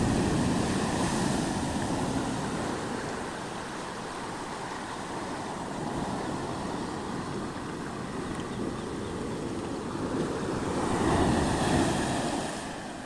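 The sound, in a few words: ocean waves crashing on the shore, West Java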